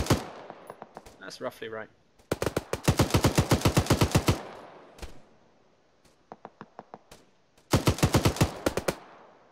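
Rapid automatic gunfire in the military game Arma 3, fired in several sustained bursts with short gaps between them, loud and close. A few brief voice fragments come through between the volleys.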